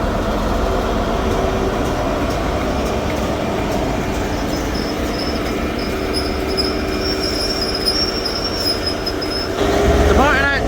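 A ScotRail service with HST power car 43148 departs Monifieth for Glasgow, its rumbling diesel and rolling wheels carrying steadily with faint rail squeal and clatter, growing louder near the end.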